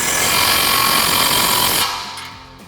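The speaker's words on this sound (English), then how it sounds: "Then we're going to grab a 15mm socket and tighten up our clamp." A 15 mm socket on a power tool tightens an exhaust clamp for a Challenger cat-back system, a loud continuous whirring buzz that cuts off after about two seconds and fades out.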